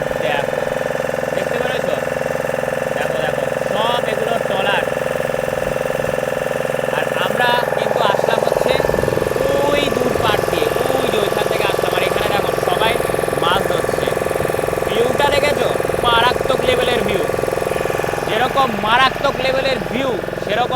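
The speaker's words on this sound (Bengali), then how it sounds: "এই মোটরটা, যার কারণে হয়তো আমার আওয়াজটা কতটা ক্লিয়ার আসছে আমি জানি না।" A boat motor drones steadily and loudly throughout a ride among fishing trawlers at a sea beach, with a person talking over the constant engine hum.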